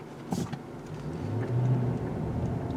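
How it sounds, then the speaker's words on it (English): A 2020 Genesis G90 V8 sedan in comfort mode rolls over mild speed bumps at about 20 mph, a low muffled cabin rumble with soft thumps and light engine hum, no voices. "we're going to take some mild speed bumps at 20 miles per hour"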